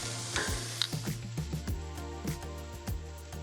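Steak searing over an infrared grill burner, a steady sizzle with crackling pops and scraping, close and continuous under rhythmic low thumps, with no voices.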